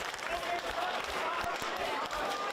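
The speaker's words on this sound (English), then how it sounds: "Draws applause from the crowd." Rugby crowd at an under-19 Queensland Reds versus ACT Brumbies match applauds a long exit kick, a distant, steady wash of clapping and murmur running under a commentator's voice.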